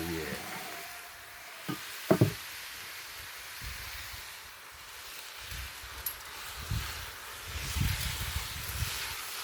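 Stew sizzles softly in a pot and is given a quick stir, a faint steady hiss with a few scraping knocks from the spoon.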